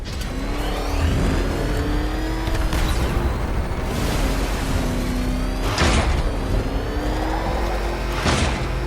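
In the video game Batman: Arkham Knight, the Batmobile's engine roars and revs hard while it drives fast, with rising and falling pitch sweeps and sharp thuds or bursts at intervals, loud and continuous.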